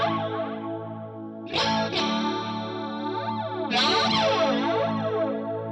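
An electric guitar played through a Deluxe Electric Mistress flanger pedal. Two strummed chords ring out, each swept by a slow, swooshing jet-like modulation, loud and close with no talk.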